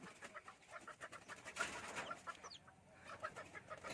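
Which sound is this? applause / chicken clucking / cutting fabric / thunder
chicken clucking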